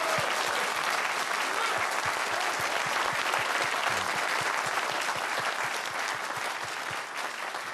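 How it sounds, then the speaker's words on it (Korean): Steady, dense audience applause at a political election-night victory speech, continuous crowd clapping with scattered louder claps, close and sustained throughout without clear talk. "박수!"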